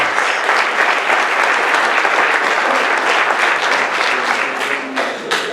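Sustained applause from a large crowd at a high school grand march, dense and steady clapping at full volume for several seconds, tapering slightly near the end.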